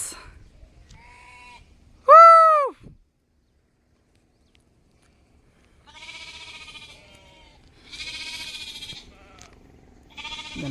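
Sheep in a forest bleat several times, one loud wavering bleat close by and then more distant, fainter bleats later, with quiet stretches between them.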